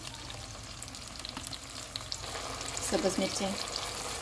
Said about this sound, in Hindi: इनको हम ऑयल अलग होने तक भूनेंगे।